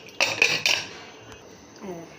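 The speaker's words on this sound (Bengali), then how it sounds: "এখন আজকে প্রেশার কুকারটা ঢেকে দেবো" A metal pressure cooker lid clanks shut in a home kitchen after rice is boiled with turmeric and salt, three sharp close metallic knocks in quick succession followed by quiet handling.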